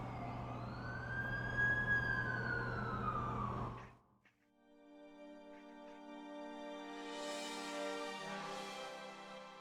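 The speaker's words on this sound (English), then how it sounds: "That's the ambulance I called." Wailing emergency siren in a Spider-Man video game, a loud sweeping tone that cuts off abruptly midway, followed by a quieter sustained siren-like hum with engine noise.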